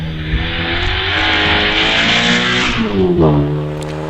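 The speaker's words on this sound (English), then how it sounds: "Here comes Carl Lupton in the 944" A Porsche 944 race car at a British Championship hillclimb at Harewood, engine loud and close with steady high revs rising and falling as it drives up the course.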